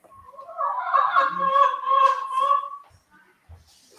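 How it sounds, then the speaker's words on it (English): Backyard hens give one drawn-out, wavering call close by that lasts a couple of seconds before it fades, followed by near quiet with faint handling noises. "those hens have a lot to say, and yes, they do."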